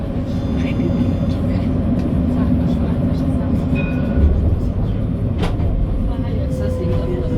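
Inside tram car 905 heading toward Gare Viotte, a continuous rolling rumble and rail hum fill the cabin at steady, fairly loud level, with faint passenger voices in the background.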